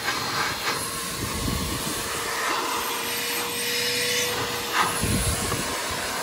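A Hart 16-gallon, 6 peak HP wet/dry shop vacuum runs with a loud, steady whooshing hiss and a sustained tonal whine as it sucks up debris, with brief rattles of material passing through the hose and no speech.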